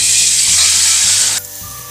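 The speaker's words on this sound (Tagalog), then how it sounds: "At kapag mainit na yung mantika natin, ay ilagay na natin yung ating pork chop." A pork chop sizzles loudly in hot cooking oil, a dense close frying hiss that drops suddenly to a quieter sizzle near the end.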